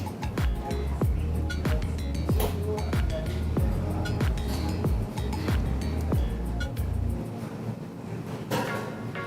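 Potato stew stirred in a pot at a Nairobi seafood restaurant kitchen, a run of close metallic clinks and scrapes against the pot under a steady kitchen hum, with brief voices in the background.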